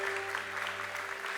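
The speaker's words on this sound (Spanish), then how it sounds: "Denle un aplauso al Señor por la iglesia." Church congregation applauding during a sermon, a steady wash of clapping hands from a crowd, fairly faint and continuous throughout with a low background hum.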